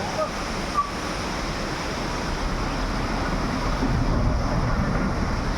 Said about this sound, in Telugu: వాటర్ ఫాల్స్ చూడండి